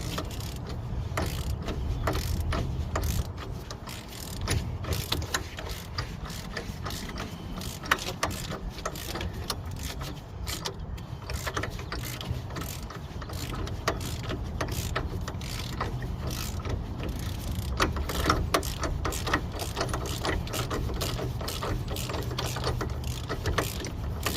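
Close ratcheting clicks from a 1/2-inch drive ratchet working a wheel bearing bolt loose on a 2009 Chevy Cobalt, a steady run of mechanical ticking with some clunks and shop noise, no talking.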